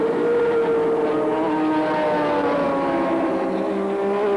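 Group C touring cars race at Sandown Raceway in 1984, a loud sustained engine drone with rising and falling harmonic pitch as the cars pass close by, with no talk over it.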